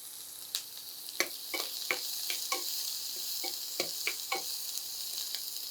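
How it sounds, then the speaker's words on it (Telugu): Onions fry in hot olive oil with a steady bright sizzle, punctuated by a series of sharp ticks and taps from stirring, close up and without any talking. "ఆయిల్ హీట్ ఎక్కగానే ఆనియన్స్ వేసుకోవాలి"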